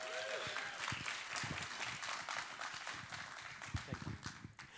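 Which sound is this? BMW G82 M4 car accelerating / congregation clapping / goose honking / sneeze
congregation clapping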